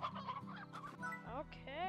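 Chickadoo chickens in the video game Slime Rancher cluck in a short, quiet burst of fowl-like calls, a few close clucks and chirps in under two seconds.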